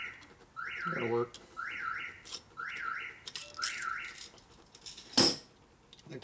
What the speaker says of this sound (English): I think that was some kind of an alarm.